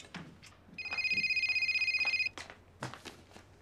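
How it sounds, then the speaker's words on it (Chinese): A mobile phone rings indoors, a bright electronic trill lasting about a second and a half, with quiet talk and movement just before and after. "好似有电话声咁喎， 啊，系我手提电话。"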